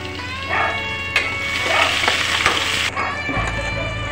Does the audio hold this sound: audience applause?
no